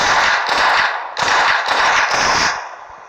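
Freeze gun firing in a robot apocalypse video game, loud bursts of rapid hissing, crackling blasts in several long volleys separated by short gaps, harsh and close with no talking.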